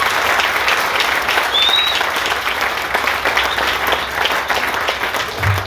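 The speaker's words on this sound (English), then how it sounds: "one more round of applause for the board and all those invested all over those years for the vision" Outdoor crowd applauding the board at a groundbreaking ceremony for an event center in Idaho Falls, steady clapping from many people that swells early and then gradually thins, with a faint whoop.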